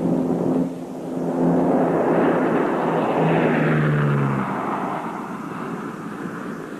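Lockheed Electra airliner with Allison turboprop engines, a steady broad roar with a low droning tone that swells and then eases slightly, heard alone without voices.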